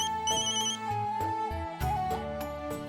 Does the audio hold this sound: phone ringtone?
yes